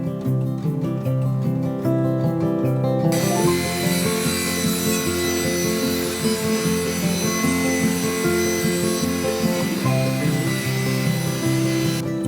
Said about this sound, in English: we can rip down final widths for the top boards. And push the table saw's limits on that beefy base stock.